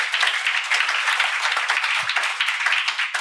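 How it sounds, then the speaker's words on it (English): Audience applause at a conference session on a multistakeholder governance model, steady dense clapping throughout, moderately loud, with no voices over it. "Big applause for Demi and Percival."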